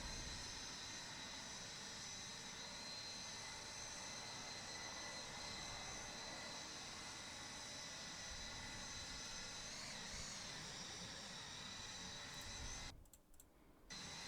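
McDonnell Douglas DC-10 jet engines in flight in a JustFlight flight simulator, a steady, loud broadband roar droning on continuously before briefly dipping and cutting out near the end.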